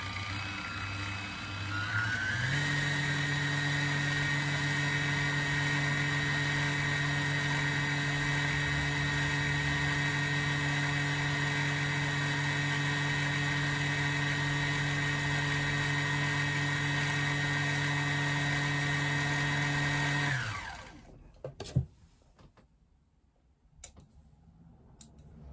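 A sewing machine running steadily as it winds a bobbin, a loud continuous whirring hum that spins up, holds for about twenty seconds, then stops, leaving a few faint clicks.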